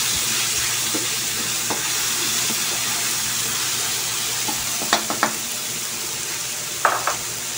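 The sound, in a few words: stirring tomatoes frying in a pan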